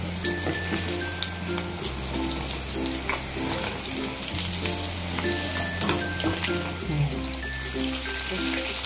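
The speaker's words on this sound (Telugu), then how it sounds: "నూనె వేడెక్కిందమ్మా. ముక్కలు వేసి వేయించుతాను నేను." Drumstick pieces fry in hot oil in a village-style kitchen, a loud, close, continuous sizzle and crackle with occasional stirring.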